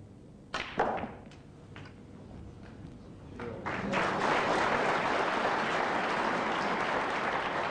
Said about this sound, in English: applause from the audience